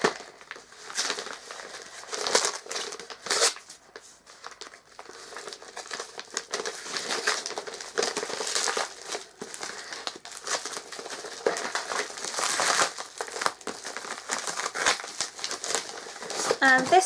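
A book parcel from The Works bound in sellotape being torn open, with crinkling plastic, rustling wrapping and sharp tape rips running continuously and close up, while a person talks over it.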